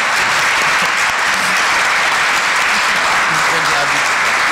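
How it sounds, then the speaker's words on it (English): A room of listeners at a League of Women Voters candidates forum claps loudly and continuously for the candidates, a thick, unbroken roar of hands close by, with faint murmuring voices underneath. "Please join me in applause for them participation."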